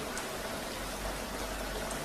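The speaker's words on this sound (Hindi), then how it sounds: "अगले दिन बहुत जोर की बारिश शुरू हो जाती है।" Heavy rain pours down steadily over farm fields, a dense, unbroken hiss of falling water with no pauses and no voices.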